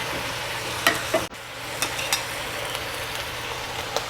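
Sauerkraut and meat are stirred in a pot, a steady simmering hiss with a few soft spoon knocks and one sharp clunk near the start.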